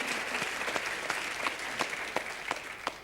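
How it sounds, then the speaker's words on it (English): Steady clapping from a television studio audience during an abortion debate, a dense patter of many hands with a few sharper claps standing out, continuing without a break. "You can applaud if you wish,"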